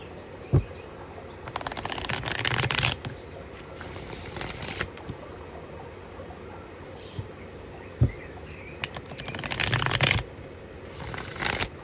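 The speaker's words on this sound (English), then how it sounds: "All right, 3 more shuffles." Cards being riffle-shuffled in several bursts of crisp, fluttering rattles, with soft taps as the deck is squared between shuffles and faint birdsong behind.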